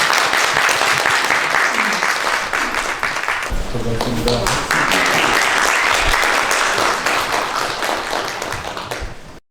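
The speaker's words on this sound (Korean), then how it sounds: "다 같이 큰 박수로 연단에 모시겠습니다." Large audience applause welcoming a nuclear energy lecturer to the podium, loud and continuous from many hands, with a voice briefly speaking over it before the clapping cuts off sharply at the end.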